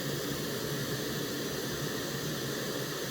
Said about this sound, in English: you press the auto EQ button and it plays white noise